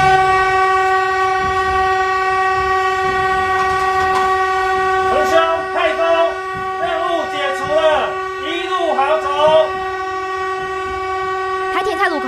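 Taiwan Railway trains sound their horns in unison for a mourning tribute, a long sustained tonal horn blast running through the clip, with a voice talking over it and other horns or whistles layered near the middle and end.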